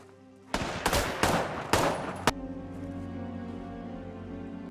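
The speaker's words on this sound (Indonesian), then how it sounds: "Robert yang lengah malah ditembak oleh cucu Lorenzo tepat di punggungnya" A volley of heavy gunshots in The Equalizer, four loud close cracks spaced about half a second apart with a final sharp shot, each leaving a ringing tail, no talking.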